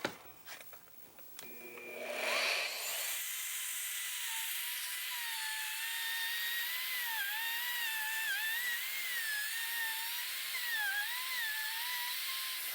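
A wood router cuts a groove into a wooden cutting board, a steady high whine holding level for about ten seconds after a short spin-up with a few light knocks.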